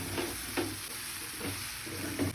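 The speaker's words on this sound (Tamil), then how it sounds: "சிம்மில் வச்சிட்டு அப்படியே கிண்டி விட வேண்டியதுதான்" Kothu parotta fries on a low flame while being stirred, a gentle continuous sizzle punctuated by about four soft scraping strokes across the pan, with no talking.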